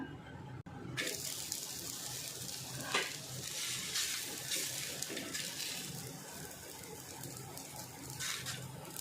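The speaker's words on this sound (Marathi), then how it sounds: "आता आपण पर पराठा ना शेकून घेऊया" A small homemade paneer paratha sizzles steadily on a hot pan, a continuous crackling hiss with occasional scraping or pressing sounds, no talk.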